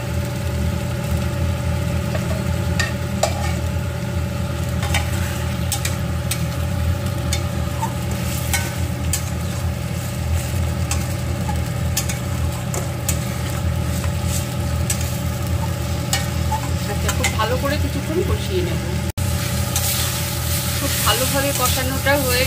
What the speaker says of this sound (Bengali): চিংড়িটা দেওয়ার পরে আরো কিছুক্ষণ ভালো করে কষিয়ে নেব